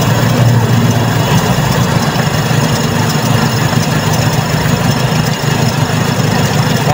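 A Toyota Corolla 4AF carbureted engine runs loud and close with a steady rumbling idle and vibration as the fast idle screw is turned, the tone holding fairly even throughout.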